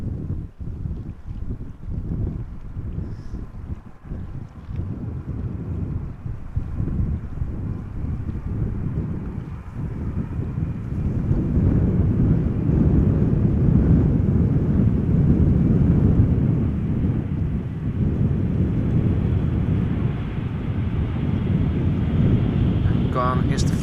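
A KLM Boeing 787 Dreamliner arrives at Amsterdam Schiphol after rain, its engines a steady, broad roar that swells louder midway and holds near, with wind buffeting the microphone throughout.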